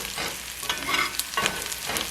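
Food stirred in a hot cast iron skillet for a farm-fresh frittata, a steady close sizzle with a few scraping strokes of the utensil across the pan and no talking.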